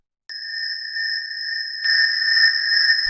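A hard techno synth plays without its shaper effect, giving a clean, steady, sustained tone. Partway through it brightens and grows slightly louder, and there is no talk over it.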